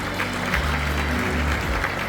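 Guests at a year-end gathering of a regional association in a hotel ballroom clap together, a short, loud burst of even applause that fills the room for a couple of seconds.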